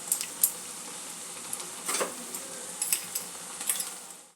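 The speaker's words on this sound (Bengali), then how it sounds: "আদা রসুনের পেস্টটা দিয়ে দেবো।" Ginger-garlic paste goes into potatoes frying in a pan for a bhetki fish chorchori, giving a soft, faint sizzle with scattered light clinks and scrapes of a utensil against the pan.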